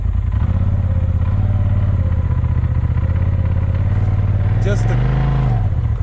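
A motorcycle engine with a clutch kit and Jaztuning parts holds steady near 3,400 RPM, a loud continuous drone that dips and swells briefly near the end, with someone talking over it.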